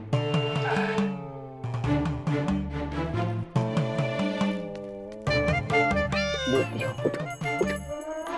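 A cat meows repeatedly in a Tenali Rama TV episode scene where it is offered milk; a series of close, loud, drawn-out meows with short gaps between them.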